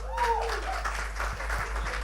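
Audience applause welcoming actor Ajay Devgan at a movie game launch event, steady clapping from a crowd filling the room, moderately loud, with a faint voice and tone at the start.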